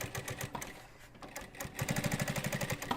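A sewing machine stitches through lofty foam in quick rhythmic bursts of mechanical clatter, faint and close, pausing briefly before a steadier fast run.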